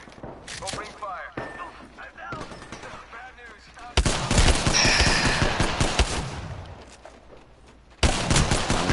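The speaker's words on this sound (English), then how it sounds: "Opening fire." Bursts of automatic gunfire in the battle royale game Apex Legends, sparse shots early then a dense, loud sustained volley from the middle onward and another burst at the end, with a player talking over it.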